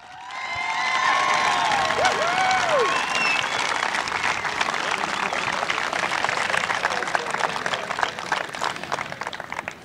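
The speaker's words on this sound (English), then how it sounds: "Can we give a big round of applause to Miss Danielle Bethel?" A crowd at a high school dedication event breaks into sustained applause and cheering, with high whoops and shouts early over a thick bed of clapping that carries on steadily before slowly thinning.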